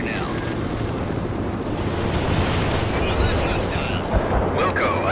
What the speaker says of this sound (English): A perfect artillery hit.